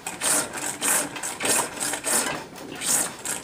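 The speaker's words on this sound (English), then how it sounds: "file it to within just over 1/8 inch thickness on the top to give you a nice flat spot" Hand file stroking across metal clamped in a vise, being worked down to a flat spot about an eighth of an inch thick; steady rasping strokes repeat roughly every half second, close and fairly loud with no talk.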